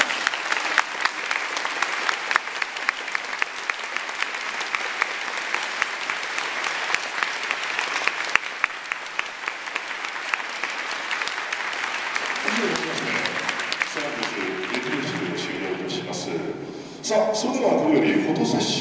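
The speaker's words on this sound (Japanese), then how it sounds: "改めて共に戦う気持ちを見せるなら大きな拍手送ってもらえますか" Large crowd at a Sagan Tosu 2019 send-off rally applauds in a long, steady roar of clapping; near the end the applause thins and fades as a voice begins speaking over it.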